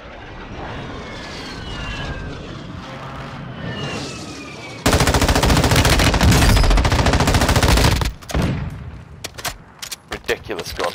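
Gunfire in the Warzone 2 battle royale game on the Al Mazrah map: distant aircraft drone first, then loud, sustained automatic bursts, followed by scattered sharp shots, with a player talking over parts of it.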